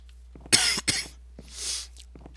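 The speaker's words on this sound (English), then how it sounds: "Try to keep myself from coughing on camera" A single person coughs close to the mic, two sharp bursts followed by a softer, raspier cough and a bit of throat clearing, against a low steady hum.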